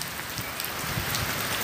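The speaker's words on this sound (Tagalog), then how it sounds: "Ang problema ko, umuulan, no?" Rain falls steadily in Alabang, a close, dense hiss of drops striking a surface with a few heavier splashes, loud and continuous throughout a short stretch.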